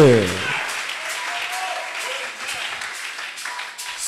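A church congregation applauding during a Sunday service, steady sustained clapping from a crowd that follows a preacher's spoken call, the applause continuing evenly to the end.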